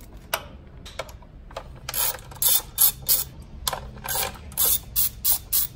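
Small ratchet loosening bolts on the rocker cover of a Nissan ZD30 diesel engine, a series of close, crisp clicking bursts in a quick rhythm, pausing briefly between runs.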